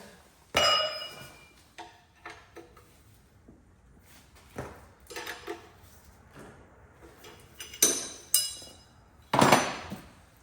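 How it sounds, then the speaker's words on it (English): An International Harvester 19mm wrench works on a Cub Cadet 1782 diesel Super Cub tractor, giving a handful of separate metallic clanks and clinks with quiet pauses between them, close by and moderately loud. "I'm going to use an International Harvester 19mm wrench"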